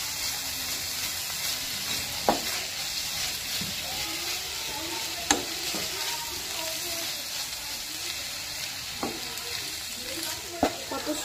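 Boiled greens fry with onions in a pan under a steady, close sizzle, with occasional sharp scrapes and knocks from stirring and a voice talking faintly in the background.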